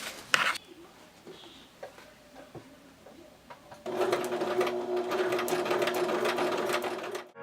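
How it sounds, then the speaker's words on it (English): A sewing machine stitches pieces of a fur jacket, running quietly in short bursts at first and then settling into a steady, loud, continuous whir for the second half. "the next step will just be to sew all the way around"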